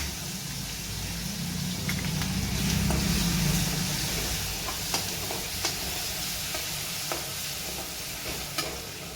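Garlic paste sizzling in hot oil with asafoetida and curry leaves, a continuous crackling fry close by while a spoon stirs and scrapes the pan in irregular taps.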